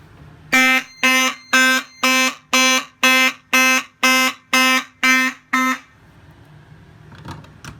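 A loud fire alarm horn blares in ten evenly spaced, harsh pulses during a fire alarm system test, then stops, leaving a quiet room with faint rustling.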